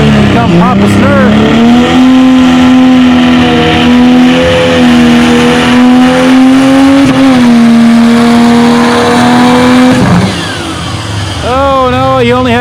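A pulling tractor's engine roars loud and sustained through a run at a spring tractor pull, holding a high strained pitch for about ten seconds before dropping off, with a few revs near the end and an announcer talking over it.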